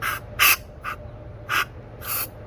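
Short hissing bursts of fuel spray from the carburetor venturi of an original Mercury outboard motor come in uneven spurts, some louder and longer than others, close by against a low steady hum.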